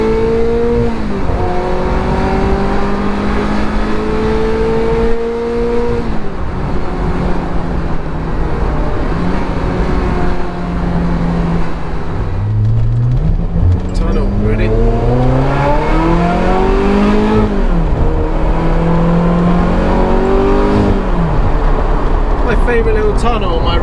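Ferrari F355 engine revving and accelerating through a tunnel, loud rising and falling tones repeating across several gear changes, echoing close by with someone talking over it.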